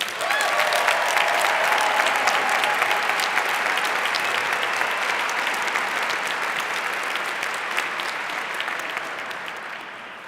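Sustained applause from a commencement audience welcoming Coach Jerry Kill, dense steady clapping throughout that slowly thins toward the end.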